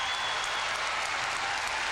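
A hometown arena crowd at a 1996 Pac-10 women's gymnastics championship breaks into dense, steady applause and cheering for a 9.9 score, a continuous wash of clapping that holds at one level throughout.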